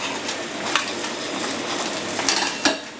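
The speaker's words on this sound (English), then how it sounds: "Just gently toss the potatoes in the butter" Potatoes being tossed in melted butter in a pan, giving a steady close sizzle and soft stirring scrape with a few brief clinks of pan or utensil, and no talking.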